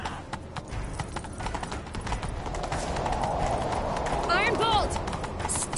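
A horse galloping in The Witcher 3 video game, with a rapid, loud, close drumming of hooves throughout and a brief whinny near the end; a voice speaks over the hoofbeats.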